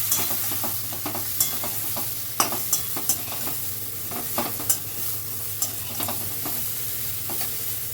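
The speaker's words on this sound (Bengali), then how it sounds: "আমি একটু ফ্রাই করে নেব।" Eggplant seasoned with salt and turmeric fries in a pan with a steady close sizzle, broken by repeated sharp scrapes and clacks of a spatula stirring the pieces.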